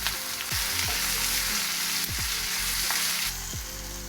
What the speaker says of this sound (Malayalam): എണ്ണ നല്ലപോലെ ചൂടായി വന്നിട്ടുണ്ട്. അതിലേക്ക് ഒരു കുറച്ച് പെരിഞ്ജീരകമൊക്കെ പൊട്ടി സവാള അരിഞ്ഞത് ഇട്ട് കൊടുക്കുക